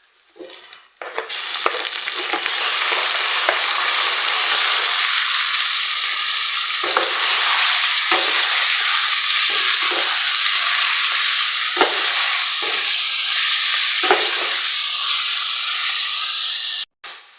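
Chicken fries in a hot pan with a loud, continuous sizzle and hiss, broken by occasional clinks and scrapes of stirring, heard close up with no talking.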